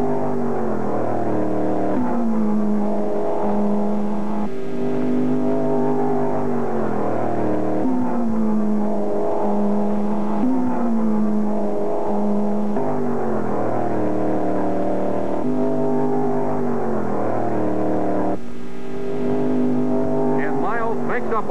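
1963 sports racing cars roar around the Road America circuit. Loud, close engines rise and fall in repeated revving surges as the cars accelerate and lift through the corners.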